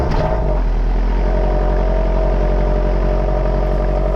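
A car cold-starting on a stock OEM exhaust with catless headers settles into a loud, steady, close-up idle, with a deep droning rumble and a faint clattering pulse throughout.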